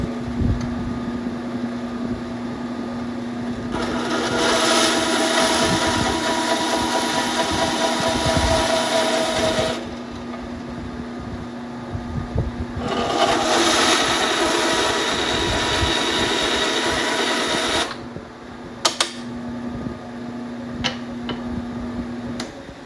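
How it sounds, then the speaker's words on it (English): A bandsaw cuts a wooden pen blank down to size in a workshop, with two long passes of dense, loud cutting noise over the steady hum of the running machine and a few sharp knocks between them. "We're going to start with cutting the piece down on the bandsaw."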